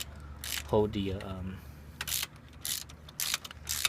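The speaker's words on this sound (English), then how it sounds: "I'm only gonna spin the nut. I'm gonna use this wrench, the Allen wrench, just to hold" A wrench turning a nut on a bolt on the exhaust guard of a Yamaha XSR900 motorcycle: short metallic ratcheting clicks come in a few quick bursts, close, with a brief stretch of talking near the start.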